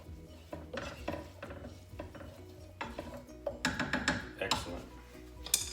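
A spoon stirs red onions into sautéed vegetables for quesadilla filling, giving soft scraping and clinking against a pan with a light sizzle underneath, growing busier toward the end.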